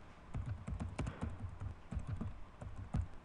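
Rapid keystrokes on a computer keyboard during a Word Art demonstration at a computer institute, soft irregular clicks in quick bursts at moderate level with no talking.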